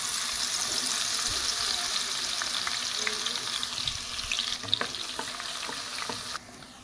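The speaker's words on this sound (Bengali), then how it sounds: "তেল গরম হয়ে গেছে, দিলাই তোরা ওলা রসুন চেঁচিয়া রাখলাম" Crushed garlic sizzles in hot oil for a jujube (boroi) pickle, a steady bright hiss with small crackles and light stirring scrapes. The frying stays loud throughout and drops away abruptly near the end.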